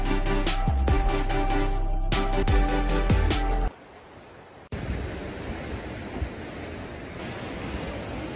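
Ocean surf washes beside Yonggungsa, a seaside temple in Busan, heard as a broad steady roar after a stretch of louder tonal sound, with a short quieter gap midway.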